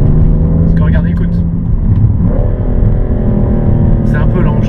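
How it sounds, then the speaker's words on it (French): A BMW M3 in Sport Plus mode hums with a loud, steady low engine drone that shifts pitch partway through as it downshifts, heard from inside the car with someone talking over it. "J'aimerais bien que les rétrogradages soient un peu plus rapides."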